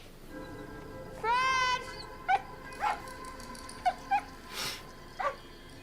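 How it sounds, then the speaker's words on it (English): A dog whimpers with a long rising whine, then gives a series of short yips and barks spaced about a second apart, moderately close, over a quiet background with faint voices. "Where's that dog's owner?"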